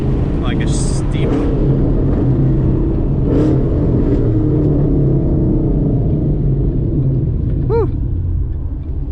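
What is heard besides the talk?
Mustang GT 5.0 engine with ghost cam tune rumbling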